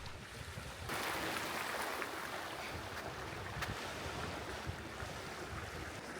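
Waves wash onto a beach on Prince Edward Island's red shale coastline during a morning walk, a continuous broadband surf rush that swells after the first second and holds steady, with light wind noise.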